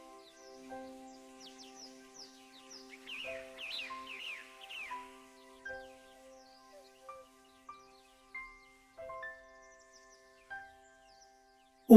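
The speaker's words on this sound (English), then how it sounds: "the occasional calm bird song" Sparse, quiet bird calls outdoors at night, a cluster of soft chirps followed by occasional thin whistled notes spaced apart over a calm, near-silent background.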